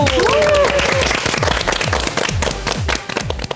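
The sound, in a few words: applause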